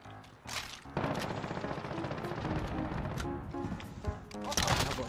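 Rapid automatic gunfire from a 60-round-magazine weapon in Modern Warfare multiplayer, sustained close bursts that run almost continuously, with a brief lull before the shooting starts and a sharp flurry at the end.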